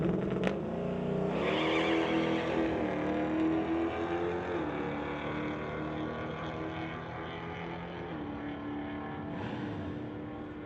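A Chevelle drag racing car on the pit side gives off a loud, sustained engine drone, with revs climbing and shifting in steps as it pulls away over several seconds.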